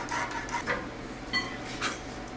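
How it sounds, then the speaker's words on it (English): Soapstone scrapes along steel plate beside a straight edge to mark a cutting line, a few short, soft rubbing strokes heard close against quiet background, with no talk. "Use my soapstone. Make a line. Nice solid line."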